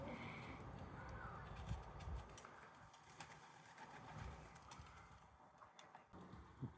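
Pigeons scuffle on the ground while being fed, with bursts of wing flapping and a soft cooing over a steady rustling outdoor background.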